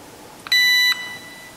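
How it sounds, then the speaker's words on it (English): PIR motion sensor buzzer entering testing mode gives one short, sharp electronic beep, a clear tonal chirp lasting under half a second against a quiet background. "the buzzer beeps 5 times to enter testing mode"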